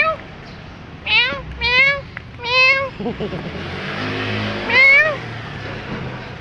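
A cat meowing outdoors along a city street on a midday walk between San Juan and Mandaluyong: several drawn-out meows at moderate distance, with traffic rumbling underneath and a person talking briefly.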